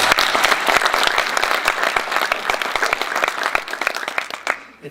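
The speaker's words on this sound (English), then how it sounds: "Let's give them a warm round of applause" Warm audience applause at a synagogue open house, close sharp claps forming a dense steady patter that thins and fades out at the end.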